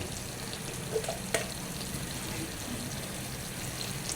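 Dried fish and taro stolon curry being gently stirred in a pan, a soft steady sizzle running throughout with a couple of brief scraping clinks near the start.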